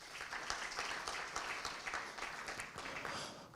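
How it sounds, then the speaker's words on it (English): A conference audience applauds panelists at a Pan African gathering on illicit financial flows and taxation, a dense, steady roar of many hands clapping that holds for several seconds. "Let's give them a round of applause."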